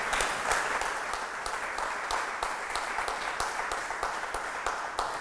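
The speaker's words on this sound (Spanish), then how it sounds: "Un aplauso a Papá Dios." Church congregation clapping in praise during a sermon, a full room of steady, fairly even applause sustained throughout, moderately loud and without speech.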